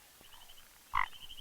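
A frog croaks once, short and loud, during the rainy mating season, over faint quiet background chirring.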